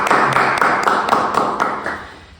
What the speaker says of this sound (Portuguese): Palmas para o Alexandre Rosa.